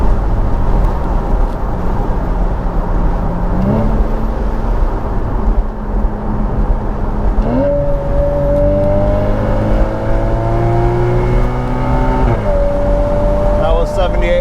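A Porsche Boxster 981 with the base 2.7-litre engine revs hard to 7,800 rpm, the loud, close engine note climbing sharply in pitch through two long sweeps, with a steady, heavy engine drone throughout.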